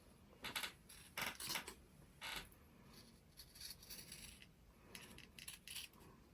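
Scissors snipping through fabric by hand in short bursts of crisp cutting, several snips with brief pauses, close up and fairly quiet.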